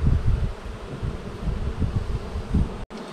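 Honeybees drone steadily around their hives on a French beekeeping farm, a close, continuous buzzing with light rustling and no talk, briefly cut by a sharp dropout near the end.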